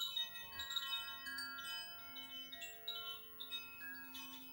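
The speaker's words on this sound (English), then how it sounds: "And then also the chimes." Soft chimes ring during a yoga stretching session before the final resting pose, their sustained, overlapping tones shimmering quietly with no voices.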